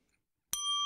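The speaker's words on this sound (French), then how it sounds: "ça c'est la sonnette qui indique qu'un des personnages a changé soit de couleur de peau, soit d'orientation sexuelle." A bicycle bell-style ding used as a sound effect in a tabletop role-playing session strikes once after a brief silence and rings on cleanly, alone.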